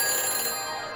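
A telephone rings after a number is dialed in a Back to the Future video game, a dense, steady electronic ring that fills the whole short moment without pause.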